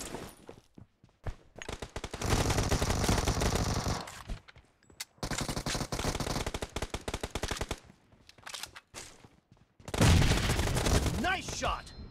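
Bursts of rapid automatic gunfire in a PUBG Mobile battle, several loud sustained volleys separated by short gaps, with a final heavy burst near the end.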